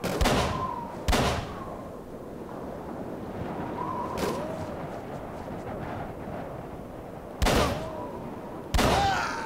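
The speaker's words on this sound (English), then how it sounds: "they've learned to shoot!" Sharp gunshots from enemies in Call of Cthulhu crack out in a sparse, irregular pattern, roughly five separate loud reports spread over several seconds against a low rumbling backdrop.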